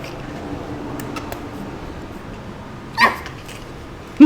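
A dog gives a single short, fairly close bark partway through, set against a quiet steady background hum, with another sharp sound cut off at the very end.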